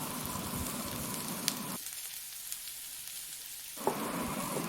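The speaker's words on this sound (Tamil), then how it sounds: "இதெல்லாம் சேர்த்து நல்லா ஃப்ரை பண்ணிக்கலாம்." Shallots, curry leaves and coriander leaves fry in a pan for a shark fish curry, giving a steady, close sizzle that cuts out for about two seconds and then returns, with a few small pops.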